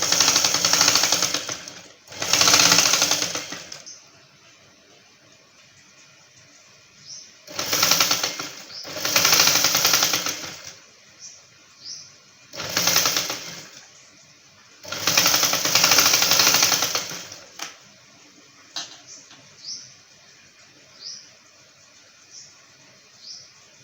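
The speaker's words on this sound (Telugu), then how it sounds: "ఇలాగా స్ట్రైట్గా కుట్టు వేసుకుందాం కింద వరకు కుట్టు వేసుకుందాం" A sewing machine runs a straight seam on a dress coat in several loud, rapid bursts of stitching lasting one to two seconds each, separated by quiet pauses with small clicks and handling noises.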